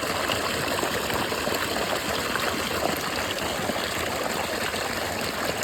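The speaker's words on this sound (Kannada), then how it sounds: "ಉಳ್ಳಾಗಡ್ಡಿಗೆ ನೀರು ಬಿಡ್ತಿದ್ದೀವಿ" Irrigation water gushes from a pipe onto an onion field in a steady, unbroken rush that stays close and even throughout, with no voices.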